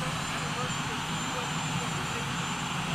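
Steady, broadband rotor-and-engine roar fills the whole clip, loud and constant, with no breaks.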